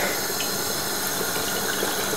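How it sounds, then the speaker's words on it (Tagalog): Water running into a cooking pot in a home kitchen, a steady, even hiss of filling liquid heard alone at moderate volume. "So, lagyan lang natin ng tubig."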